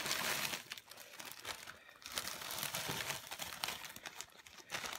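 Cut broccoli pouring out of a large 32-ounce plastic bag into a slow cooker, a rustling, crinkling clatter of florets and plastic that rises and falls for several seconds.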